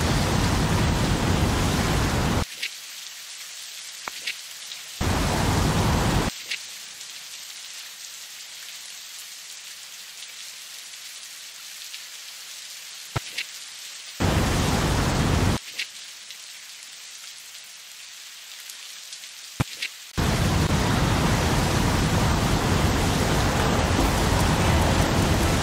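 Steady broadband rain pours in a tropical island city-building game Tropico 5 during a storm, loud and continuous with brief drops to near silence; no clear thunder cracks stand out.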